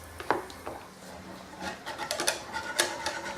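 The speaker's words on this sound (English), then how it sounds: "we'll get a whisk onto it while it's actually cooking, just to break those bits of flour up better" A whisk scrapes and taps through melting butter and flour in a pan while a béchamel roux cooks, giving soft irregular rubbing strokes and light clicks, fairly quiet and close, with no talking.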